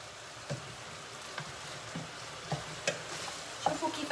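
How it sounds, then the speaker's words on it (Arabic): Onions frying in a pan give a soft, steady sizzle broken by a few light knocks as they are stirred, close and fairly quiet, with no one speaking. "شوفوا كيفاش راهو هكا، يعني البصل بك تقلى"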